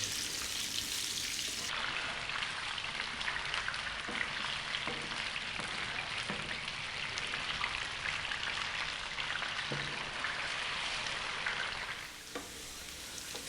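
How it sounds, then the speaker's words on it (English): Potatoes fry in a pan with a dense, steady sizzle that stays loud and even throughout, with a few faint clinks and stirring scrapes near the end. "let's fry these around for about 4 to 5 minutes"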